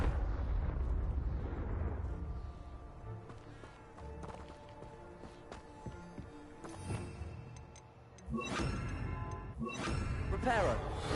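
Confringo blasting curses explode in Hogwarts Legacy, loud crackling bursts near the start and again toward the end, with game effects and a ringing tone in between.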